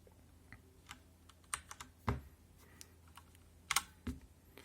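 Keys clack in scattered, irregular presses on a HyperX Alloy FPS mechanical keyboard with Cherry MX Brown switches, a few soft taps and sharper clicks close by in a quiet room.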